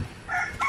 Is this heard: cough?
no